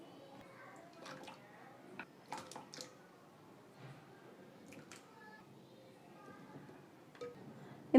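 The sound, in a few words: potatoes being added to water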